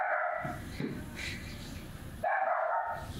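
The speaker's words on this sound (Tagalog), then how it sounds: "Stray dog that we got. Saying hi." A stray dog barks and yips in short bursts, fairly close, with quieter stretches between the barks.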